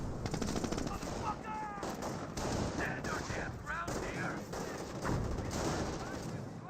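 Panzer Grenadiers fire on riflemen in Company of Heroes, a WWII strategy game: dense, continuous machine-gun and rifle bursts with whizzing ricochet-like chirps over a constant battle rumble, moderately loud, with faint voices mixed in.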